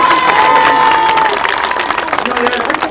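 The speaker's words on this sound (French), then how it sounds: "Oui, on peut l'applaudir beaucoup plus fort que ça." A crowd at a televised comedy show in Cannes cheers and applauds loudly, with shouts and whistles over dense clapping and voices mixed into the roar.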